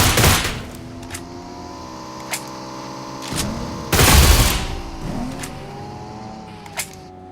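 Gunfire in the mobile battle royale game PUBG Mobile: loud bursts of rapid shots cracking over a droning vehicle engine, with two heavy volleys and several single sharp reports.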